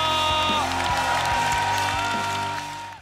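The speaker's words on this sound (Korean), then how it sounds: "6연승에 성공한 만찢남에게 다시 한번 축하의 박수를 부탁드립니다" A studio audience applauds the winning singer on a Korean singing competition show, a steady, dense wash of clapping with music playing underneath, tapering off toward the end.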